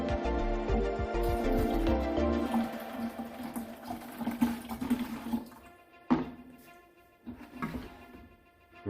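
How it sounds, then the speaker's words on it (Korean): Water and soju poured into a jar for culturing vinegar, a loud gushing pour that gradually thins into trickles and drips, followed by a few clinks and splashes, close with no voice. "요렇게 이제 물하고 소주를 먼저 담은 다음에"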